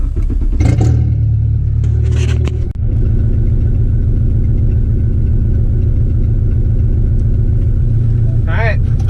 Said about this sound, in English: the car's loud as heck